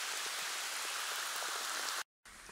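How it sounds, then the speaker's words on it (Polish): Steady rain falling outdoors during a pike fishing trip, a dense, even hiss of drops on surfaces that runs continuously and briefly cuts out near the end before resuming. "Widzicie, pada cały czas,"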